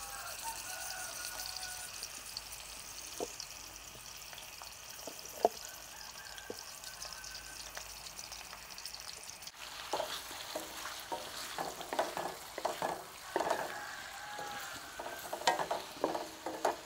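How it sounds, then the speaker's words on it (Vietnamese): Food is stir-fried in a pan with annatto oil for a shrimp bún riêu soup, with quiet sizzling and scattered scraping strokes that turn busier and louder halfway through. "Mình xào sơ qua thôi, rồi mình cho vô nồi nước mình nấu."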